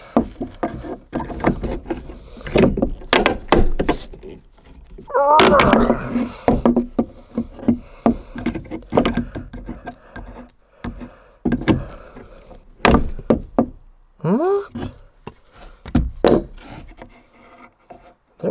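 Someone hammers on old wooden steps to free a nail, landing irregular sharp knocks with scraping, creaking wood in between, close by, while people talk intermittently.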